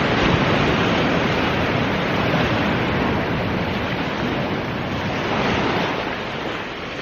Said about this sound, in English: shots around those rocks, the water rushing around the rocks down there